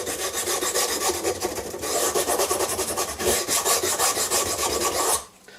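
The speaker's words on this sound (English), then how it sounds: "Take your sanding block and a bit of lubricant on there" Steady rhythmic rasping of a sanding block rubbed back and forth over a surface, loud and close, continuing for several seconds before stopping abruptly.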